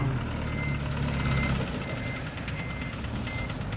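A truck backs up with its reversing alarm beeping steadily over a loud idling engine rumble, close by at an outdoor fish market.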